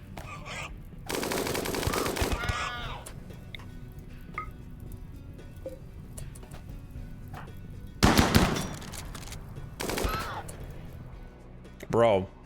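Minigun fire in RimWorld, with rapid bursts of automatic gunfire in several separate volleys, the longest lasting over a second, over a quieter background with intermittent talk.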